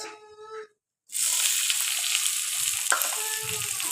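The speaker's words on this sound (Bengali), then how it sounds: "আমার তেলটা গরম হয়ে গেছে এখন দিব আমি কুচনো পেঁয়াজ" Chopped onions hit hot mustard oil for a beef bhuna, and a loud, sudden sizzle bursts out after a brief silence, then holds as a steady close frying hiss with a small clink.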